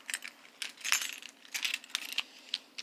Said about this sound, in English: these are the 94 Cadillac hearse keys